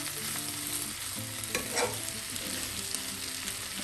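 Potato masala fries in a pan with a steady soft sizzle while a spoon stirs and scrapes through it, a few louder scrapes standing out midway; close and fairly quiet, with no talking.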